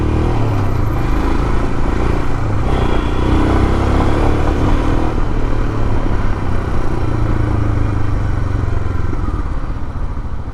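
A Royal Enfield Himalayan 411 motorcycle rides along loud and close, its single-cylinder engine droning steadily and revving under a constant rush of wind and road noise.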